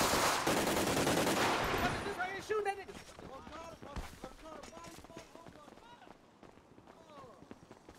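Heavy gunfire from a Grand Theft Auto roleplay game crackles loudly in a dense burst for the first two seconds, then gives way to excited overlapping talk with scattered fainter sounds behind it.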